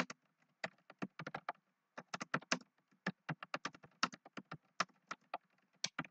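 Keys on a computer keyboard typed in quick irregular bursts while notes are written, close and fairly quiet, with short pauses between runs of taps and no talking.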